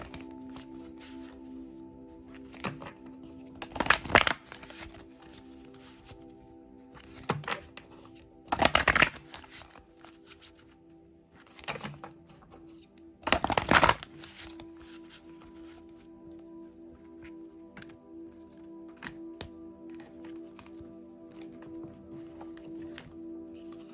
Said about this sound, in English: I'm gonna shuffle these again because I can't remember if I split the deck already